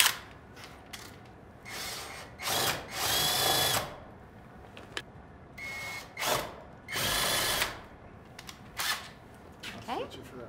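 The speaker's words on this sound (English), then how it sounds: "We'll countersink these really quick" A power drill with a countersink bit bores into a door frame in repeated short and longer whirring bursts, close and loud, with pauses between holes and people talking in the gaps.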